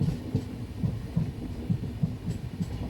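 Kannur Express train pulling into Mangalore Central station behind a diesel locomotive, giving a low, steady rhythmic clatter and throbbing rumble, fairly faint with no voices.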